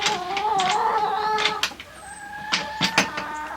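A small brown chicken clucks softly and repeatedly while eating out of a hand, close by, with a few sharper pecking sounds and no talk.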